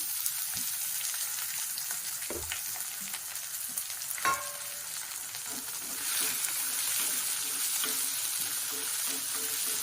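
Potato pieces fry in hot oil in a pan for a greens poriyal, giving a steady close sizzle with occasional stirring scrapes throughout, with no talking.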